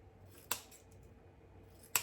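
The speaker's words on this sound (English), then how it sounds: "these scissors are not the best right now" Dull crafting scissors dovetail-trim satin ribbon tails on a Halloween pumpkin bow, giving two crisp, faint snips about a second and a half apart against a quiet room.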